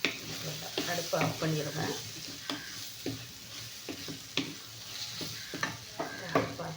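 Cooked rice is tipped into a hot pan and stir-fried at home, with soft sizzling and repeated scraping and tapping of a spoon against the pan, while someone speaks briefly over it.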